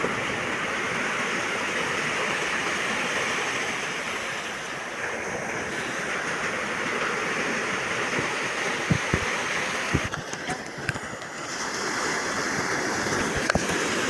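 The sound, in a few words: large sea waves breaking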